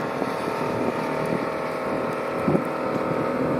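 A motorboat's engine drones steadily close by, mixed with wind buffeting the microphone and water noise throughout.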